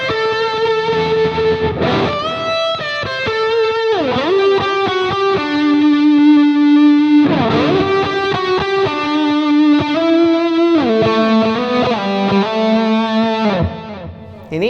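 Distorted electric guitar played through a NUX B-8 wireless system with the boost engaged, loud, sustained chords and sliding riffs ringing continuously with a short break near the end, no talk.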